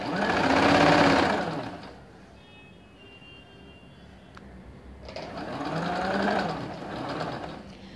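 A sewing machine stitching straight-cut ladies pants runs in two steady whirring bursts, close and fairly loud, separated by a quieter pause with a faint click; a voice talks over the machine.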